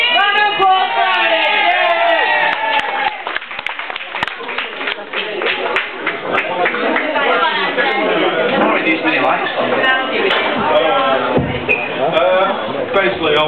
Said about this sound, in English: Round of applause for Andy.